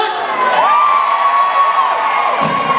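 A crowd at an adult talent show final cheers loudly and continuously: a sustained wash of whoops and shouting fills the space, with a piercing whistle or squeal held over the noise.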